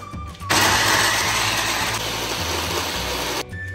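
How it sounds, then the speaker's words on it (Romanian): A kitchen blender chops prepared onion into a paste, running as one loud, steady whir for about three seconds, starting and stopping abruptly, with no talk over it. "Am pregătit ceapa și o dăm prin blender."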